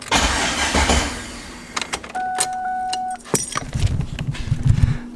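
A turbocharged LS-swapped Mustang starting with a key turn: keys jangle, the starter whines briefly, then the engine catches and settles into a lumpy, rumbling idle close by.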